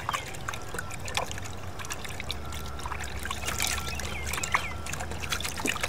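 Worm tea liquid strains through a paint strainer, giving a steady, close trickle and dribble of water with small splashes that continues without break and without talk.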